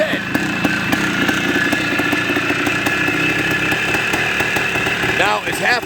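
A big bore two-stroke motorcycle engine, a one-off Kawasaki-to-Suzuki conversion, runs close by with a steady rough idle and sharp blips, while people talk over it.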